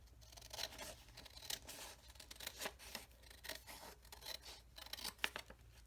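Scissors snip through a journal page to cut it in half, a run of crisp, close, fairly quiet cuts in a steady rhythm with no talking.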